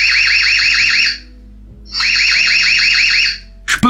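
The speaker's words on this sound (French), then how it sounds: "On active l'alarme, écoutez ça." A loud, piercing electronic alarm siren from an EZVIZ CB8 2K battery security camera, warbling rapidly, sounding in two bursts with a short pause between, then a brief clatter at the end.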